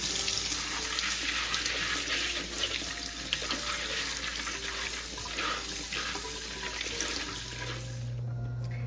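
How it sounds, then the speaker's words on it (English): Cold tap water runs steadily through a sieve of dried soup ingredients, including longan, a continuous broadband splashing rush that holds at even loudness for the whole stretch, with no voices. "rinse them off under cold running water for a few seconds"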